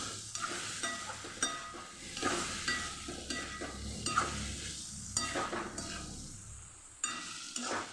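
Tomatoes are stirred into potatoes frying in a pan for vegetable poha, a continuous sizzle broken by repeated spatula scrapes and knocks against the pan.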